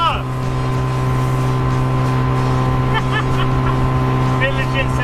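Engine of a 1972 Honda TN360 kei car at speed, a loud, steady droning hum holding constant pitch throughout, with faint higher whines drifting in and out.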